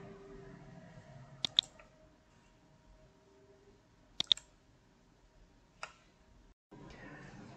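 A computer mouse clicks while browsing books on Amazon, giving three small, sharp, close clicks spread apart over quiet room tone, with no talk.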